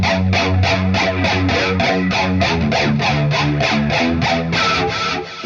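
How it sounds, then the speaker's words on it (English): Electric guitar riff in a 90s EVH-style tone, driven through a Peavey or Soldano tube amp with a flanger in the chain: dense, distorted, rhythmic chugging with a sweeping whoosh, loud and steady throughout with no voices. "when we add the flanger in the chain and I'm playing that riff"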